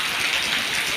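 Rain falling on a flat rooftop, a dense, steady hiss of drops, loud and close.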